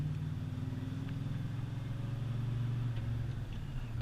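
A car with a manual transmission rolls downhill in second gear, its engine giving off a steady, moderately loud low rumble from inside the cabin without speech.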